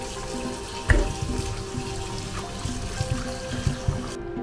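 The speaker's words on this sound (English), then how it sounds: "don't forget to wash our vegetables." Tap water runs steadily into a sink while carrots and celery are rinsed, a continuous close splashing flow with a few louder splashes and no talk.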